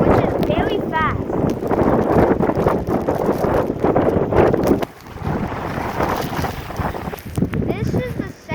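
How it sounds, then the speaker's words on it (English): Strong wind of about 50 miles per hour in a New York City snowstorm roars and buffets the microphone in a loud continuous rush, with a person talking over it. "And the wind is going 50 miles per an hour"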